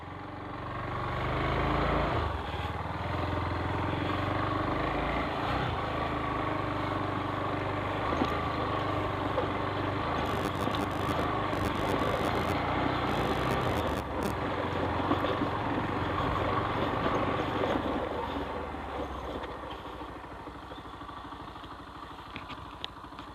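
Motorcycle engine running steadily on a bike road trip to Manikyadhara, Datta Peetha and Bababudangiri, a continuous loud drone holding for about twenty seconds before easing slightly, with no talk over it.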